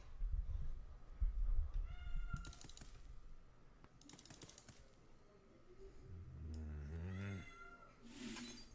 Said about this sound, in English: That cat has a set of lungs.